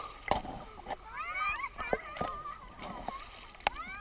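Child swimming and splashing in a lake, close, repeated light splashes and sloshing water, with excited adult voices talking over the splashes.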